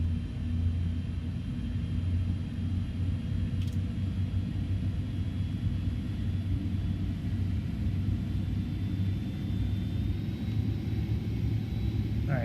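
Airbus A310-300 jet airliner in Microsoft Flight Simulator 2020 on its takeoff roll, a steady low engine rumble and roar that holds level throughout, heard alone with no talking.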